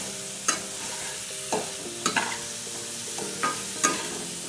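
Sliced, salted paneer is stirred in a pan, with about five distinct scraping strokes of the spoon over a low, continuous sizzle.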